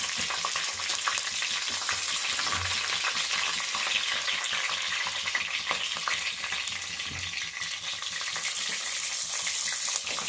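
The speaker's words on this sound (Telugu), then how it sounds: "తర్వాత పచ్చిమిర్చి వేసుకుందాం." Green chillies frying in a pan for vegetable rice, a loud, steady sizzle close by with a couple of soft stirring thuds and no talk.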